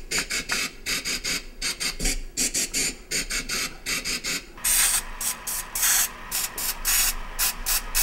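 An olive oil spray can gives a string of short hissing bursts with a touch of reverb. The first half has quick irregular puffs, then sharper, brighter sprays follow in a fast rhythmic pattern.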